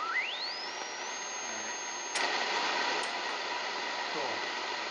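Zero-beat tone while calibrating an R-390A tube communications receiver: a whistling heterodyne tone sweeps upward and then holds steady over background hiss, with brief clicks partway through.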